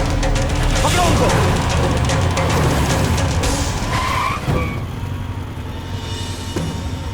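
A car skids during an action movie chase, a loud, sustained engine roar with tire noise dominating the first few seconds before easing into lower rumble, mixed with other film sound effects.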